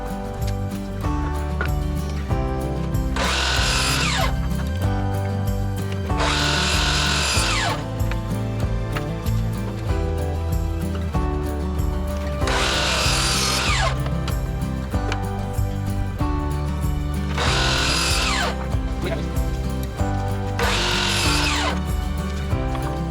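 A power tool cuts small wooden blocks for a DIY garden light post lantern, with repeated loud whining bursts of a few seconds each, at regular intervals, over a steady mechanical hum.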